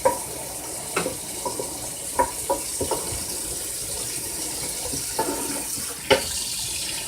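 Skillet juices poured into a beef stew pot make a steady liquid trickle with scattered clinks and taps of cookware, no talking.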